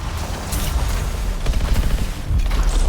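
Big cannon shots in the game Anthem during a boss fight, heavy rapid booming blasts pounding continuously and loudly with no voices over them.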